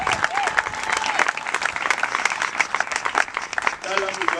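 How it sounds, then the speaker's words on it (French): A church congregation claps and cheers loudly for the glory of Jesus, sustained applause mixed with voices calling out, steady and close throughout. "On va acclamer encore pour la gloire de Jésus"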